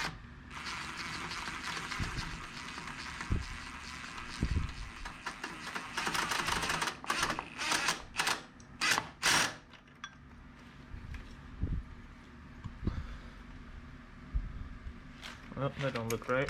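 AC compressor bolts on a Nissan Hardbody with an SR20DET swap being tightened with a ratchet give rapid clicking bursts and metallic clinks, close by, under intermittent speech.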